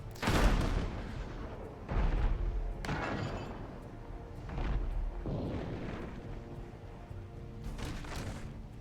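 Sniper shots and gunfire ring out in a ship-battle video game, with several loud, sharp booming reports spaced a second or two apart, each trailing off into rumble.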